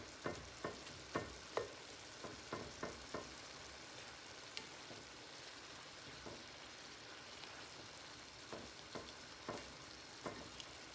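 Dirty rice sizzles in a skillet, a soft, steady frying hiss with a run of light clicks from stirring near the start and again toward the end, close but faint, no voices.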